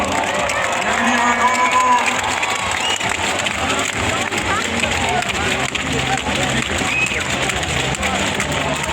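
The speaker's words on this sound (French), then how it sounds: "Vous pouvez encore les applaudir très très fort." A stadium crowd at the Athlétissima athletics meeting in Lausanne applauds and cheers the Swiss women's relay teams, a loud, dense, sustained roar of clapping and voices with speech mixed in throughout.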